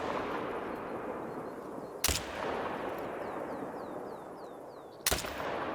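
Two sharp gunshots from a Zarza-15 .223 rifle in the hunting game theHunter: Call of the Wild, spaced about three seconds apart, loud and abrupt against a steady outdoor ambience with birdsong in the background.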